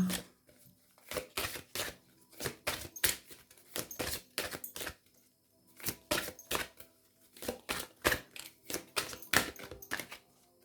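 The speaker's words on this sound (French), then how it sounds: "Donc je vais battre des cartes et à vous de voir." Playing cards being shuffled, repeated quick riffling bursts in a steady rhythm with short pauses between them, close and crisp in a quiet room.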